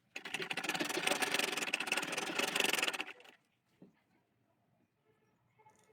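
A sewing machine stitches the frill and bodice pieces of a cotton gauze baby frock together in one fast, steady whirring run of about three seconds, then stops, leaving faint handling sounds.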